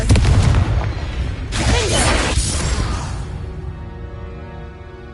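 A fiery Confringo explosive spell goes off in Hogwarts Legacy: a heavy boom with a rushing whoosh and crashing debris, then a slowly fading rumble.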